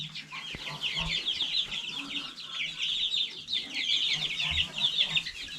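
A Brahma chicken clucks in a steady run of short, busy calls, fairly close and clear, with faint farmyard background and no talking.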